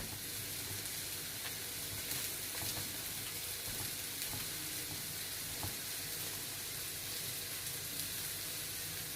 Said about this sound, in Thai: จะผัดเห็ดหอมกับหมูบดเข้าด้วย